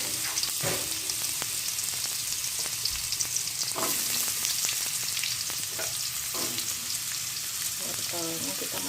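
Sliced garlic and carrots stir-fry in a hot pan for Indonesian capcay, with a constant close sizzle broken by scattered scrapes and clinks of a utensil.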